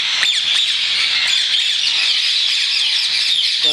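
Ringneck parrots, white and yellow ringneck breeder pairs at a bird farm in Multan, Pakistan, keep up a dense, continuous chorus of shrill squawks and whistling calls, loud and steady throughout with no talk.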